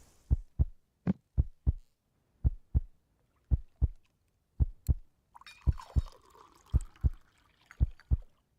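Heartbeat sound effect from a fishing video game played on the ocean: deep paired thumps repeating at a steady rhythm, clear and isolated, with a faint hum entering partway.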